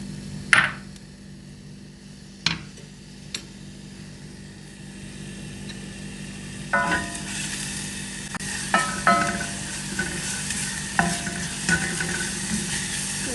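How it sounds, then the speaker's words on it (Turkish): A soft sizzle of carrot sautéing in olive oil in a pot continues at low volume, punctuated by occasional sharp knocks and scrapes of a spoon stirring. "Bir tane havucumu ekliyorum. Biraz zeytinyağıyla kavuracağım."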